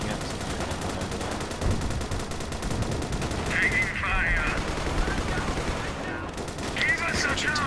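Dense, continuous gunfire and machine-gun bursts in the World War I mod of the video game Company of Heroes, steady and loud throughout with game effects layered over it.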